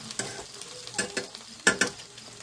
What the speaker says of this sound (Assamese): বাটাৰখিনি এড কৰাৰ পিছত মই ইয়াতে মিক্স কৰি দিম